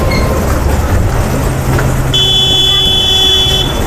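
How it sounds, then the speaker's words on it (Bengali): A car horn honks with a steady, sustained tone for a couple of seconds over loud, rumbling Kolkata traffic noise. "কাকার হর্নটা হেভি"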